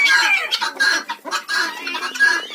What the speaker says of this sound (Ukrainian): Оці два півника бентамські ходять тут